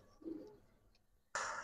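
A pet pigeon gives a soft, low coo near the start, followed after a pause by a sudden louder burst of close flapping or rustling.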